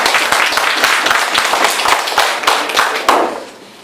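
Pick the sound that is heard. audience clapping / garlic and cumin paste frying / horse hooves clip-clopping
audience clapping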